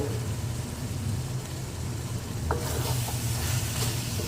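Potatoes frying with mutton mince, peas, tomato and spices in a pan, a steady soft sizzle with an occasional stir or utensil clink partway through.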